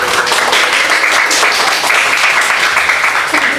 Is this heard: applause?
yes